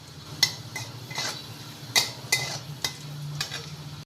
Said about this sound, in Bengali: দেখো রসুনগুলো কিন্তু বাদামি করে ভাজা হয়ে গেছে